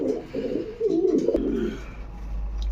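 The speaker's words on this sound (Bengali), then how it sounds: "আপনারা দেখতে পাচ্ছেন একজোড়া বিউটি কবুতর" A pair of beauty pigeons, a red male and a female, coo in low repeated throaty phrases, close and fairly loud, with a steady low rumble of background noise and no talk.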